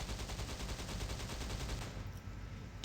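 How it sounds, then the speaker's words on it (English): A cannon fires repeatedly during a weapons test in a video game, a rapid series of booming shots rolling on steadily before cutting off near the end. "We first have the cannon"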